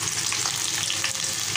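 Garlic, onion and cumin sizzling hard in hot oil as a tempering for masoor dal, a dense continuous hiss, close and loud for a brief moment.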